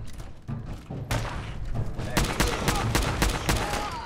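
Gunfire in the video game Fallout 4 comes as a rapid string of loud sharp shots and thuds that build into a dense volley. Game noise runs under the firing.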